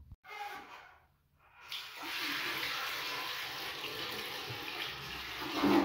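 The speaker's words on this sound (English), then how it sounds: "if you pour the water slowly into the toilet," Water is poured slowly into a toilet bowl to flush it. After a brief trickle, a steady, hissing splash runs on for several seconds and swells slightly at the end.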